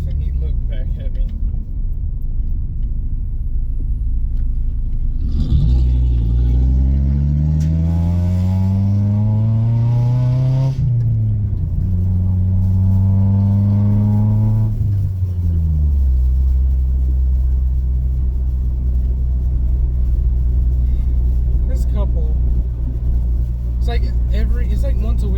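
A car engine revs up in long rising and falling sweeps heard from inside the vehicle, with a low steady rumble before and after the loud revving passages.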